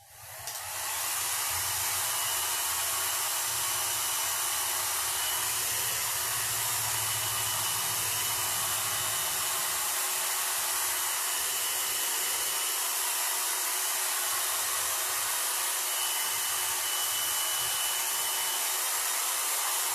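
A hair dryer blows steadily on caked-up paint for a kids' swipe-paint art piece, a loud, continuous close-up hiss and whir that holds without pause for the whole stretch.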